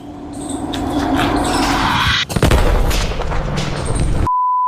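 A firecracker bursts beneath a car during Diwali: one sharp, loud bang lands midway through, rough rumbling noise follows it, and a steady electronic beep closes the clip.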